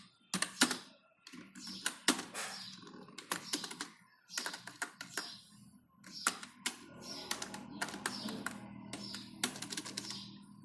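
Keys clatter on a computer keyboard while text is entered in Microsoft Word, in close, crisp clusters of rapid keystrokes broken by short pauses, with no talking.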